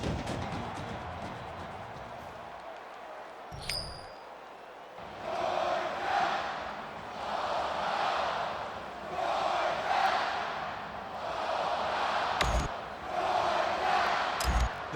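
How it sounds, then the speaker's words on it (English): A roaring stadium crowd waits for kickoff at an SEC Championship football game between Georgia and LSU in NCAA Football 14. Broad crowd noise swells and rolls in waves, with brief sharp thumps near the end. "you can feel the thunder in the crowd as they await the start of this game"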